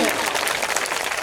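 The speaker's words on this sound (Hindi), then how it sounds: "जोरदार समिति के सदस्यों के लिए जोरदार तालियां हो जाए, जोरदार तालियां" Applause from an audience at an annual school function, greeting the committee members: a dense, steady patter of many hands clapping throughout, with a voice running over it.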